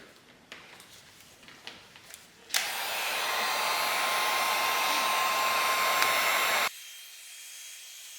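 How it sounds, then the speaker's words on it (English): A heat gun roars on abruptly, blowing a steady loud hiss with a faint whine while warming the final drive cover of a 1977 BMW R75/7 motorcycle, then cuts off sharply; light clicks of handling come before it. "I'm just going to heat it up a bit so it's easier to pull it up."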